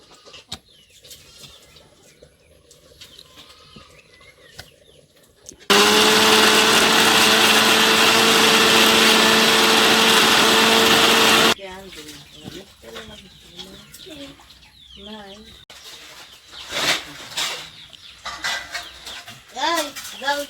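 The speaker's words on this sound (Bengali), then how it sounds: "এরকম করে আমি মিক্সারে দিয়ে পেস্ট করে নিব" A mixer grinder whirs loudly and steadily for about six seconds while grinding jackfruit seeds into a paste, with quieter kitchen noise and talk before and after.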